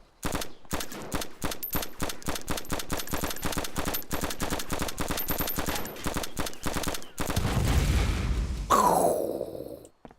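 Gunfire in DayZ: a long string of rapid, loud shots fired in quick succession, ending in a rougher burst of noise.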